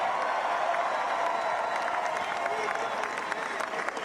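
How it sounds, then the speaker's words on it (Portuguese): A large rally crowd applauds a speech by Donald Trump, a dense, steady wash of clapping and crowd noise that holds throughout without a break. "Trump é muito aplaudido"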